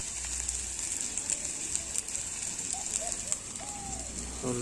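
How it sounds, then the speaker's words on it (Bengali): A spatula stirs food in a wok set over an outdoor wood fire at a winter picnic, making a faint, steady sizzle with light scraping clicks while birds chirp softly nearby. "তোমরা জাস্ট ওই কাঠের জালে কড়াই বসিয়ে খুন্তি দিয়ে নেড়ে নেড়ে যে সাউন্ডটা হয় না, ওই সাউন্ডটা জাস্ট দারুণ লাগে"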